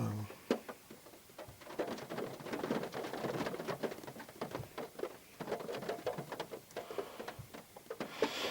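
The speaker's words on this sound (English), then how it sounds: "Something very therapeutic about raindrops on your car roof when you're stationary." Raindrops patter on the roof of a stationary car as irregular, light taps that come steadily throughout, heard from inside the car with a voice speaking now and then.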